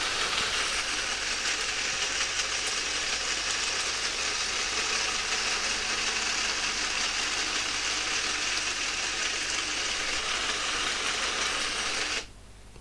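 A large robot arm's motor whirs steadily as the arm rotates back to its center position, a constant dense mechanical drone lasting about twelve seconds before cutting off abruptly.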